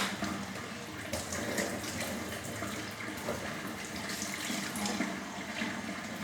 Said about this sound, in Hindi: थोड़ा पानी एक्स्ट्रा है तो इसको जो है गिरा दें बाहर।